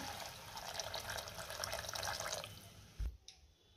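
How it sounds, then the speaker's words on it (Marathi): Hot water poured into a pan of vegetable curry makes a continuous splashing gush for about two and a half seconds, then stops, leaving a brief knock and near silence. "आता आपल्याला यामध्ये गरम पाणी घालायचे।"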